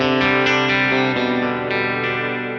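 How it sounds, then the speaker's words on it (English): A distorted electric guitar strummed in a few sustained chords through a Fender Mustang Micro's modulated reverb, the shimmering, wavering tail lingering as the sound fades slowly; loud and close with no talking. "Modulated reverb."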